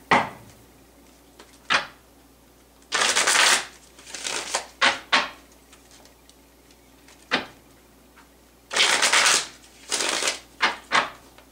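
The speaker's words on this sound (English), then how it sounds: "One more shuffle and then we'll pull those cards." A deck of tarot cards is riffle-shuffled close up in repeated bursts of rapid flutter, separated by quieter taps and squaring of the deck.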